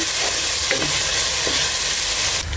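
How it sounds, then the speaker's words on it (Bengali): Spices fry in a hot pot for fish khichuri while being stirred, a loud, continuous sizzle with light scraping that cuts off abruptly near the end. "সবগুলো উপকরণগুলো আমি ভালোভাবে কষে নিব"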